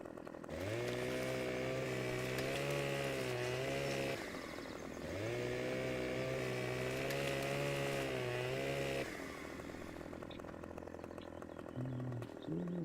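Loud in-game chainsaw from Farming Simulator 15 revving and cutting through a tree, steady high engine whine in two long sustained passes with a brief dip between, then settling to a lower idle near the end.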